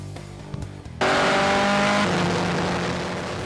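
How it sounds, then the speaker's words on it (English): A Formula 2000 race car roars in suddenly and close after a quiet moment, its engine a loud, steady high-pitched whine that slowly drops in pitch as it passes and fades slightly. "she spends her weekends racing Formula 2000 cars at speeds of more than 100 miles per hour"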